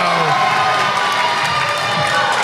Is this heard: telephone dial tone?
no